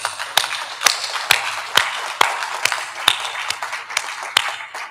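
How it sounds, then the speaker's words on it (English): An audience at an awards ceremony in Doha claps in a steady rhythm, sharp unison claps landing about twice a second over a bed of scattered applause. "Clap for it."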